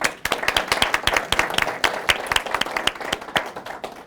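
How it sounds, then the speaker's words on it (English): Audience applause at a county veterans services event, honoring local VFW and American Legion members: a modest crowd claps in distinct, sharp, fairly sparse claps that hold steady throughout, fading slightly at the end. "Give them a round of applause."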